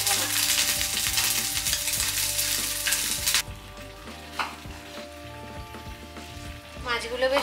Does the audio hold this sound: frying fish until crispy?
yes